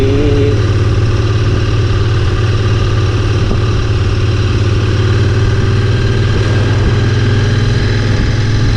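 A classic motorcycle engine idles steadily and loudly at close range with a constant low throb, recorded on a ride along the Nasugbu loop road.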